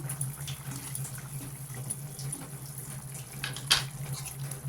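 Egg curry simmers in an uncovered pot, a soft, steady bubbling with a low hum beneath and a brief louder burst near the end, close and fairly quiet, no talk.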